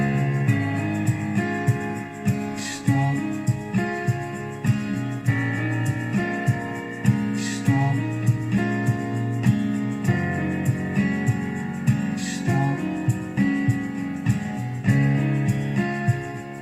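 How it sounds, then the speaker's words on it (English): Song mix played back with guitar, organ and a steady beat, a full continuous band sound with regular rhythmic pulses, loud and without talk. "So when you put it together with guitar, the organ and the beat, sounds like this."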